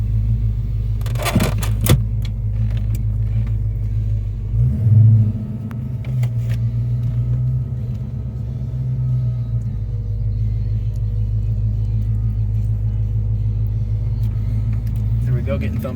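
The engine of a 1989 Ford Mustang Saleen coupe rumbles deep and steady while driving, heard from inside the car, with a couple of brief clicks and a small surge partway through.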